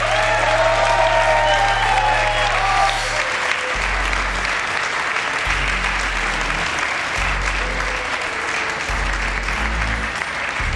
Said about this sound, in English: Let's have a massive round of applause for